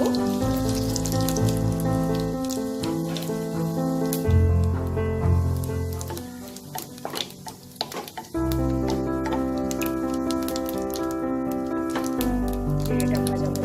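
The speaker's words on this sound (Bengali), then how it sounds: "জিরে ফোড়ন দেব।" Cumin seeds crackle in hot white oil in a kadai while cooking aloo paratha, a continuous sizzle with spatters and stirring scrapes, heard beneath louder background music.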